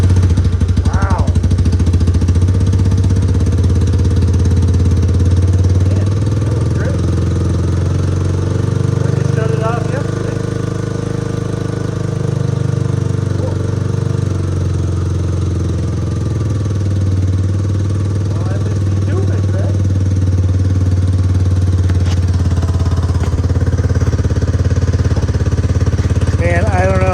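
A 1985 Honda Big Red three-wheeler, restarted after sitting four years, idles and runs with a steady low thumping engine drone, close by, with occasional faint voices and handling noises over it.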